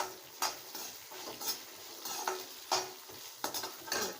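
Six or seven garlic cloves sauté in a pan for a chicken curry, a steady sizzle broken by repeated clinking scrapes of a spoon stirring at a loose, uneven rhythm.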